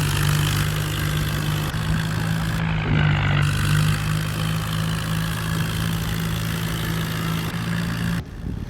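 A tractor pulling a loaded trolley while stuck in a single gear runs with a steady, close, droning engine hum, holding an even pitch with slight surges and no talking.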